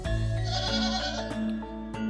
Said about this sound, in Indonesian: Masih ini kambingnya masih 20 ekor.